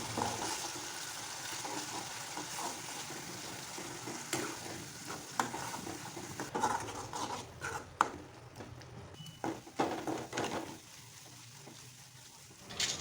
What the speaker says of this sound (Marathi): कांद्याला तेल सुटेपर्यंत भाजून घ्यायचं